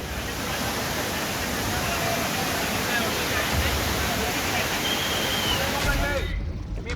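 Monsoon waterfalls gushing down mountainsides near Lonavala, Pune, Maharashtra after heavy continuous rain, a steady loud roaring rush of falling water that stays constant throughout before cutting off abruptly.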